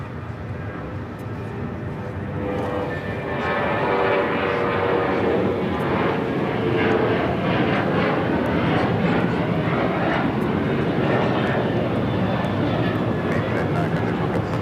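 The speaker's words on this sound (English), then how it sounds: "This takeoff is American Airlines 1899 taking off to Indianapolis on the 737-800." An American Airlines Boeing 737-800 taking off at LAX, a steady, loud jet engine roar that swells and holds across the whole stretch, heard from a distance with people talking over it.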